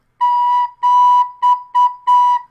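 Recorder plays five clean, steady notes on one pitch in a short-short-long-short pattern, close and alone with no voices.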